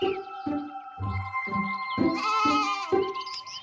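Sheep bleat repeatedly in a steady series of close, loud calls, about seven in a row, some overlapping, with no talking.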